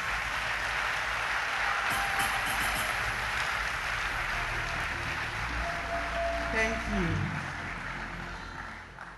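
Audience applause at an awards ceremony for the brightest 2023 WASSCE students, a steady broadband wash of clapping throughout, loud and sustained, with a brief spoken thanks near the end.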